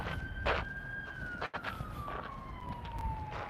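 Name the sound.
ambulance siren passing on the road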